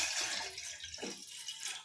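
About a tumbler of water goes into a silver cooking pot, a quiet, close splash and gurgle that rises and settles over a couple of seconds.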